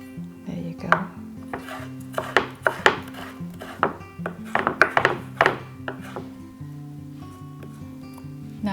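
A knife cuts tofu thin on a board in a kitchen, a quick irregular run of sharp taps and thunks, close and distinct, over a steady low background tone with no talking.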